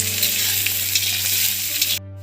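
Chopped onions fry in a pan with oil for a meat curry, giving a steady, close, loud sizzle and crackle that runs without pause and cuts off sharply near the end, with no talking.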